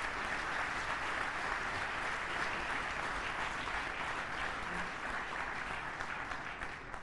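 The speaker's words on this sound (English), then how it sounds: "please join me in applauding a wonderful inaugural speech" Sustained applause from a conference audience at the Raisina Dialogue 2018 after a Prime Minister's inaugural speech, an even, continuous roar of many hands over several seconds.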